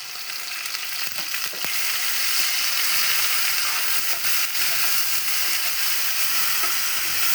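Onion and garlic frying in a pan, a steady loud sizzle throughout with faint scraping, no talking.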